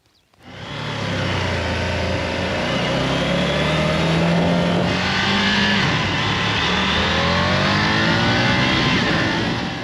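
Engine of a 2021 Triumph Tiger 850 Sport motorcycle, loud and close, starting up then holding a raw, throaty drone with rising and falling revs, with no talk.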